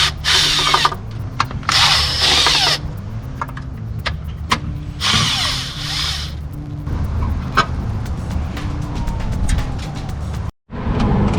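Power tools whir and rattle in repeated bursts as valve cover bolts come off a Nissan G35 engine, a ratcheting drill revving on and off up close with brief pauses between runs, no voices.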